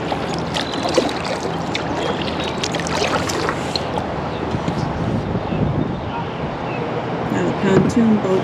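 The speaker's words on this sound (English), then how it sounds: "Pontoon boat going by." A pontoon boat passes on a lake at a state park, its engine drone mixing with water lapping and wind buffeting the microphone, steady and moderately loud throughout.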